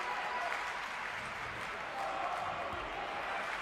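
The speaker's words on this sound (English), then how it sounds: "the crowd's making some noise now" A basketball crowd applauds and cheers in the arena during a FIBA World Cup qualifier, Romania against Croatia, a steady wash of noise running the whole time at moderate distance.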